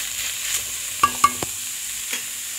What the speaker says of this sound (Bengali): এবার পেঁয়াজ রসুনের সাথে কাঁচা লঙ্কা শুকনো লঙ্কার সাথে থোড়টা একটু ভাজা ভাজা করে